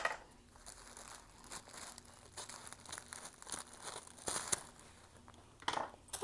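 Crinkly, scratchy rustling of a cosmetics subscription box's packaging being cut open, steady and close with a few louder crackling bursts, no talking.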